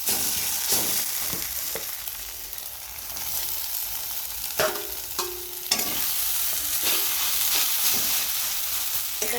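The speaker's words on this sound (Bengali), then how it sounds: "এবার আমি এতে চিংড়ি মাছ ভাজাটা দিয়ে খানিকক্ষণ কষে নেব" Fried prawns sautéed in a thick spice paste without water: a moderate, close sizzle running throughout, broken by repeated scraping stirs of a spatula in the pan and a few sharper clatters, with no voices.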